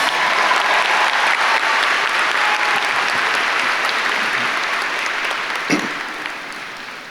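Steady, dense applause from a large crowd at the Matoaca High School Class of 2024 graduation ceremony, loud and sustained for several seconds before gradually thinning and tapering off.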